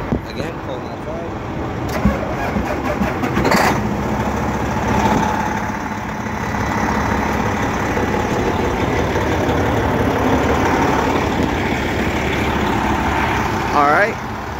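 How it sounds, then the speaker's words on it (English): A 2009 Sterling truck's diesel engine idles in a steady low rumble throughout while someone talks over it, with a few clunks and a brief whine near the end. "keep the engine going, so we can get some warm oil"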